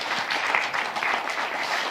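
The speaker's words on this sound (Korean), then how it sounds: "그래서 여러분 박수 쳐주시고요." Applause from an audience at a Korean education talk event, a steady, moderately loud wash of many hands clapping together without pause.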